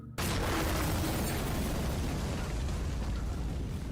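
A gunpowder blast in an animated show erupts suddenly into a loud, sustained roaring rumble that fills the whole clip, with no voices.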